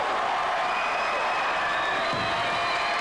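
Crowd at a New Catch professional wrestling match applauding steadily with scattered cheers, a dense continuous wash of clapping throughout, moderately loud with no clear voices above it.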